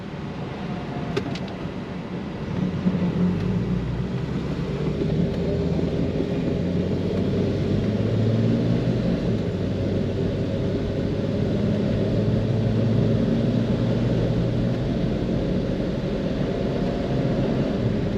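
A 1971 Plymouth Duster engine runs smoothly, with a steady low rumble that holds evenly for about eighteen seconds and no talk over it.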